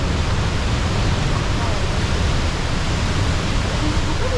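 Rushing waterfall at Mamihara falls in Japan, pouring heavy volumes of water into turbulent pools: a loud, steady, broadband roar that fills the whole scene without pause.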